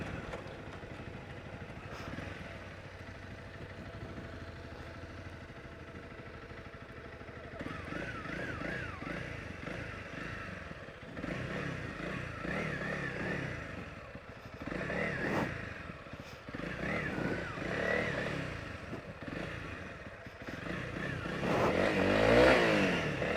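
A motorcycle engine revs and surges as it's ridden off-road over rough ground and into a ditch, with clattering and scraping knocks; fairly close and uneven.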